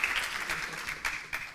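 A conference audience applauds after a talk at a software community event, a steady patter of hand clapping with a few sharper claps near the end, moderately distant and fairly quiet.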